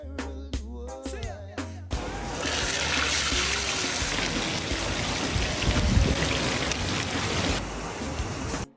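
A river flows beside an outdoor dining area in Jamaica, a steady broad rushing wash of water that swells slightly in the middle, after a brief stretch of other sound at the start.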